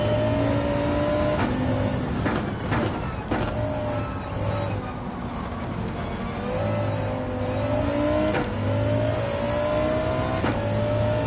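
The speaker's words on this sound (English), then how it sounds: "Oh, I love the sound of this car." Engine of a race car in Gran Turismo 7 revving hard through the gears, climbing pitch broken by sharp shift cuts, loud and close with a steady road drone underneath.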